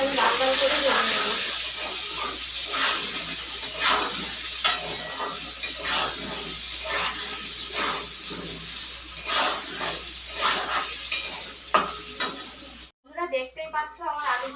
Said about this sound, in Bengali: ভালো করে আলুটাকে আমি লাল লাল করে ভেজে নেব।